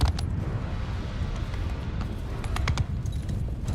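Horse hooves clip-clopping in a Total War video game, a continuous patter of hoofbeats under a low rumbling background with faint speech.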